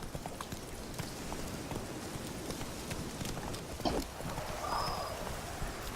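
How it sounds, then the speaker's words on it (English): Hooves of a horse gallop in The Witcher 3 video game, a steady, moderately loud clip-clop rhythm across the whole stretch with a faint bird-like chirp partway through and no talking. "Run, Roach"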